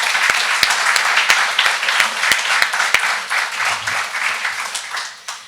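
An audience at a youth recognition ceremony applauds steadily, with many hands clapping in a dense, even wash and a few distinct sharp claps near the front, tapering off at the end.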